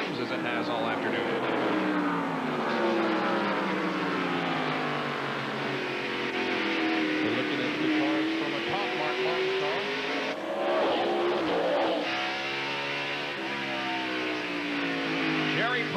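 Ford stock car with Valvoline livery at speed during the 1992 Hanes 500, its engine a continuous high-revving roar that rises and falls in pitch as it runs, with broadcast commentary talking over it throughout.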